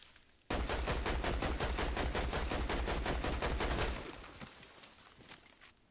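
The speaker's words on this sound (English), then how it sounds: "He was just shooting us again." Rapid automatic gunfire in the video game Fortnite, a fast evenly spaced burst of loud shots lasting several seconds before stopping, followed by a few scattered fainter shots.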